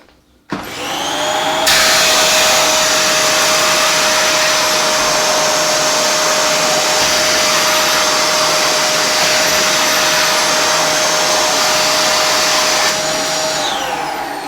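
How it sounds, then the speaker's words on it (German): A Dyson vacuum cleaner switches on and runs with a steady, loud high-pitched whine and airy rush, holding constant for over ten seconds before starting to spin down. "Wir benutzen hier mal einen Dyson."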